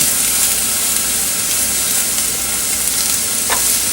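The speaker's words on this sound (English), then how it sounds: "I'm just going to saute that off, let that cook up real good. So we have in here carrots, some celery, garlic, red onion." Carrots, celery, garlic and red onion sauté in a hot pan with a loud, steady, close sizzle that holds evenly throughout, with a faint clink near the end.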